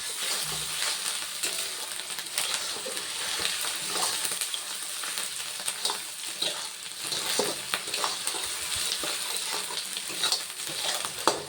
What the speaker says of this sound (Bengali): এবার ওগুলো ভালোভাবে তেলের সঙ্গে মিশিয়ে কষিয়ে নেব